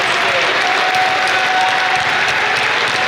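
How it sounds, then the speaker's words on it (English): Loud, sustained round of applause from an audience as volunteers come up on stage, a thick unbroken roar of clapping with a faint hum running through it. "Now you're all going to demonstrate a round of applause"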